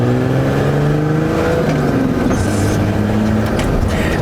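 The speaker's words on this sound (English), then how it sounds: "the TD42 is a loud motor, and Liam's car, he's not going for quietnes" A straight-piped Nissan TD42 diesel engine drones loud and steady at close range, its pitch drifting slightly as it revs, with no pauses and no talking.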